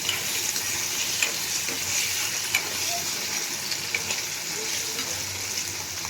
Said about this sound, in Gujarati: આપણે ગુંદા તેલમાં નાખીએ એટલે એકદમ ઉડે, એટલે આપણે ઢાંકી દઈએ તો વઘાર એકદમ આમ બહાર જાય નહીં